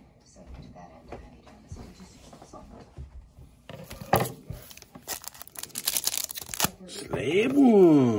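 Scissors snip and slice open sealed plastic packaging for trading-card slabs, with crinkling, tearing and clicking close to the microphone, rising in loudness toward the end while a person talks.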